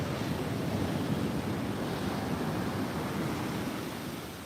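Ocean surf rolls onto the shore at Muaro Bayang beach in Pesisir Selatan, West Sumatra, a loud, continuous broadband roar mixed with wind buffeting, easing slightly toward the end.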